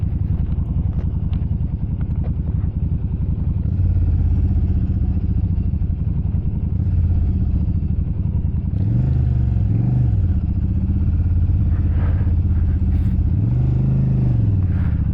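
Motorcycle riding along, a constant close engine rumble with wind noise, rising and falling revs as the bike accelerates and shifts, loud and steady throughout.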